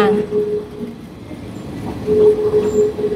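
Railway locomotive rumbling at Hua Lamphong station in Bangkok, with a steady low engine drone and a sustained tonal horn-like whine that fades and then returns, all fairly close and moderately loud.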